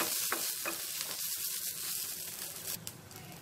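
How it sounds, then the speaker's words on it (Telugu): Green chillies frying in a pan for a peanut chutney give a steady, close sizzle with faint stirring scrapes and no talk, easing slightly toward the end. "పచ్చిమిరపకాయలు కూడా వేగిపోయాయి, ఇప్పుడు మనము స్టవ్ ఆఫ్ చేసేసుకుందాము."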